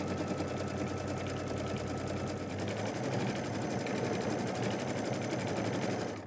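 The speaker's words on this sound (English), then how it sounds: "when I take it back to the machine, it's going to go ahead and stitch a little scallop right here" A sewing machine stitches a scallop tack-down line for a bag handle, its needle running in a fast steady mechanical chatter for several seconds, close and alone.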